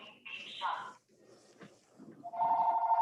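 A telephone rings during a county work session meeting, an electronic ring in a few bursts over murmuring room noise and some talk.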